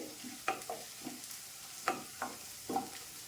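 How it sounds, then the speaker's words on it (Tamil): Onions fry in a pan for a chicken dish, with soft sizzling under several scraping stirs of a spoon. The strokes come at irregular intervals, close by and fairly quiet, and no voices are heard. "நல்லா வதங்கட்டும் சுருளை வதங்கட்டும்"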